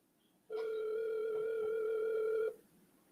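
A single steady telephone ringback tone on an outgoing call, one sustained two-second ring heard alone and fairly faint, with quiet background before and after.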